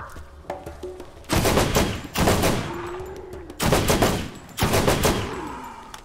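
Rapid bursts of automatic gunfire from the video game Borderlands, four loud volleys separated by short pauses, with no talk over them.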